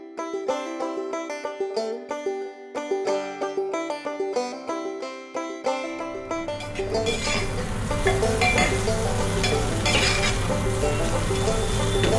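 Sliced onions frying in hot mustard oil with whole spices for mutton keema, a steady loud sizzle rising partway through and continuing to the end, following a stretch of music.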